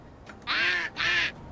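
Two loud nasal quacks from a duck named Daisy in the farming game My Time at Sandrock, each about half a second long, separated by a short gap and heard alone.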